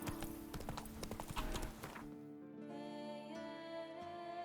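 Horse hooves clip-clopping in a fast gallop in the video game The Witcher 3, loud rhythmic thuds for about two seconds, then fading under steady game music.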